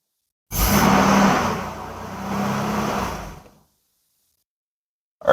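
A Nissan R31 Skyline fitted with S13 running gear rolls off on its first drive, engine revving loud and close for about three seconds with a brief dip in the middle, then cutting to silence.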